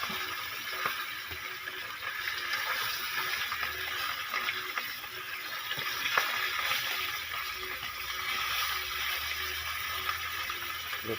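Fish fries in a pan with a steady, dense sizzle and crackle of hot oil, continuous and close throughout, with small pops here and there.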